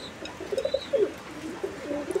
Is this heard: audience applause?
no